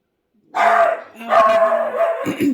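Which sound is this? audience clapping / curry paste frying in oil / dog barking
dog barking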